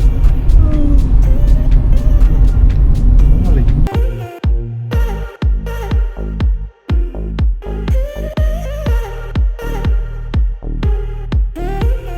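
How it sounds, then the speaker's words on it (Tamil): A Tamil Nadu government bus on a hill road in the Ooty tea estate country rumbles past loudly and close during the first few seconds, followed by repeated sharp knocks and thumps with steady engine noise underneath. "தமிழ்நாடு அரசு வண்டி வருது."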